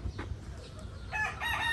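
A chicken crows briefly on a farm where animals are being fed, a short strained call near the end, heard close over low rumbling background noise.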